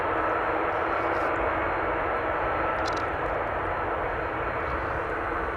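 A KLM airliner in its 100-years livery on its takeoff roll at Amsterdam Schiphol Airport, giving a loud, steady, broadband jet engine roar that holds without a break throughout.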